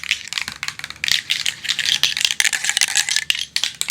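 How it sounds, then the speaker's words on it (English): A nut rattles inside a spray paint can being shaken vigorously, producing rapid, bright metallic clacks in an uneven, continuous rhythm close up. "In every rattle can, there's going to be a nut."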